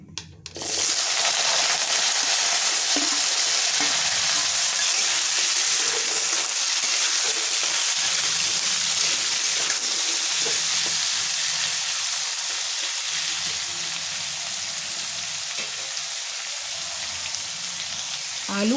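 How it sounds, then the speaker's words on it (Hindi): Potatoes frying with fenugreek seeds in a pan, a loud, even sizzle that starts abruptly after a brief quiet moment and holds steady throughout, close and dense, with no talking. "आलू को भी फ्राई कर लेती हूँ।"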